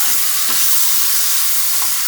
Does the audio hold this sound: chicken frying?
yes